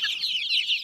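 Chickens and roosters in a rural farmyard give a brief high-pitched cluck or squawk, a single close call lasting under a second.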